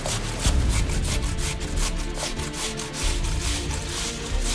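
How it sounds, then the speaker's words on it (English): Potatoes grated lengthwise by hand on a box grater for latkes, a steady rhythmic rasping of quick strokes close by, continuous without talk. "I also like to grate it lengthwise instead of crosswise because you get longer strands of potato"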